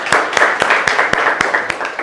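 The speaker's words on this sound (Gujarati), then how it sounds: "બધા માટે જોરદાર તાળીઓ" An audience clapping for students at a board exam guidance session, a steady round of applause with sharp, regular hand claps ringing out close and loud.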